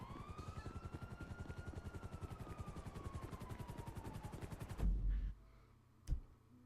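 A Grand Theft Auto V helicopter keeps up a loud, rapid rotor chop with a whining turbine tone, cutting off abruptly near the end and followed by a short thud.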